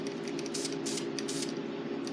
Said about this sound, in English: So I'm just gonna spray some on this piece of cardboard real quick.